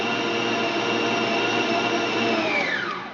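Electric mixer beating carrot cake batter with maple syrup, a steady loud whirring motor drone that holds evenly before winding down at the end, with no talking.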